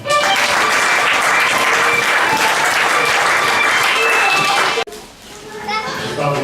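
A church congregation applauds loudly during an evangelical worship service, the clapping mixed with children's voices and chatter, then breaking off abruptly as quieter murmuring follows.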